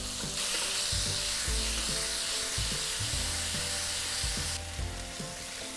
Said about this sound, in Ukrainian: поки смажиться фарш